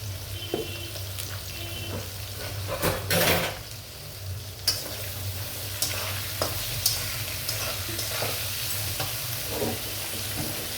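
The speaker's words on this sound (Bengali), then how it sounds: "পেঁয়াজটা নিয়ে ভালো করে ভাজবো।" Onions fry in hot oil in a pan with a steady loud sizzle, broken by several scraping, clinking stirs of a utensil against the pan.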